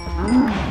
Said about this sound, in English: There are cows in the dungeon.